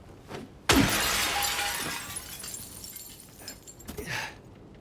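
Glass smashes in the video game Silent Hill 2 Remake: one sudden loud shattering burst, followed by a long ringing decay of tinkling shards, then a fainter second crash near the end.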